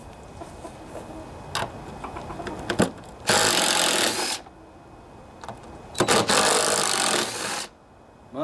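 Power tool spinning off 10 mm metric bolts on a John Deere LA145 riding mower deck, heard as two loud bursts of about a second each, separated by quieter clattering and handling noise.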